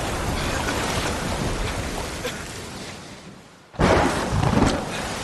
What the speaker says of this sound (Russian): Ну там такой шторм, как там выжить-то?